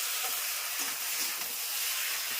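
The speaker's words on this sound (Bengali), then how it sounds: "এখন মশলাটা দিয়ে খুব কষাবো" Spice paste frying and being stirred in a pan for a home-cooked lunch, a steady close sizzle and hiss with soft scraping stir strokes throughout, no voices.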